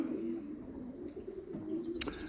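Young pigeons coo softly nearby in a low, rounded murmur that rises and falls, with a brief flutter or tap near the end.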